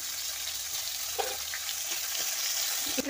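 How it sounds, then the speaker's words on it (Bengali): A hilsa fish head and a few prawns fry in hot oil with a steady, close hiss. A couple of faint clinks from the pan break the sizzle, and no one speaks. "একটা ইলিশ মাছের মাথা আর কয়েকটা চিংড়ি মাছ আমি ভেজে নেব প্রথমে"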